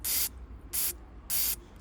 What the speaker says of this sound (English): If I block the other end, we should get it spraying out on both sides.